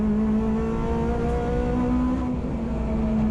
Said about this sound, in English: I love the sound of a Honda. Especially a K20.